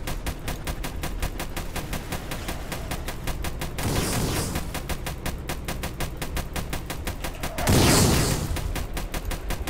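Rapid automatic cannon fire from a tank in the Roblox game Armored Patrol, a steady loud stream of shots throughout with heavier blast bursts near four and eight seconds.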